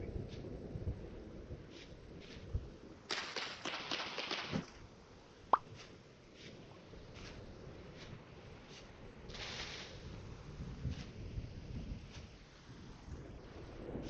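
A thunderstorm in the game Vintage Story rumbles as low, muffled thunder rolls and gusty wind noise, with a sharper burst midway and quieter rumbles later.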